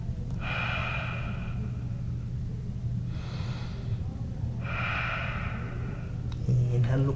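Slow, deep yoga breaths drift in and out, with three long airy inhales and exhales at a calm, unhurried pace over a steady low background hum.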